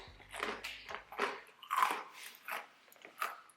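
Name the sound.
crunching a Dijon mustard coated pretzel snack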